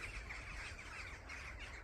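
Crows flying overhead give faint, steady calls against soft outdoor background noise, distant and brief.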